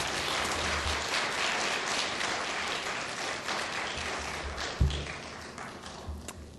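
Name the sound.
church congregation applause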